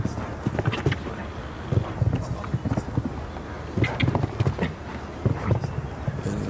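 A show-jumping horse gallops around the arena at the 2021 Piazza di Siena Grand Prix in Rome, its hoofbeats landing in a steady rhythm beneath a commentator's ongoing talk.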